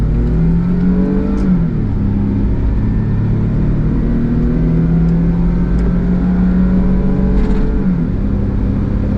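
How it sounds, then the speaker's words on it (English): Mitsubishi Townbox kei van accelerating hard in rain, a small engine droning and climbing in pitch through the gears with brief dips at shifts, loud and close from inside the cabin. "Typical Kei car noise"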